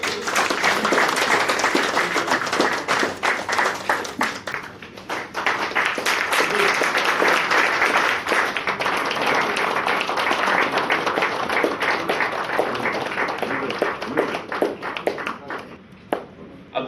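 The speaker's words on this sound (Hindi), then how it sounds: "TSG भास्कर जी का आप लोग जोरदार तालियों से स्वागत कीजिएगा।" Loud, dense applause greets a union president stepping up to the dais at an employees' gathering, many hands clapping steadily for well over ten seconds before tapering off near the end.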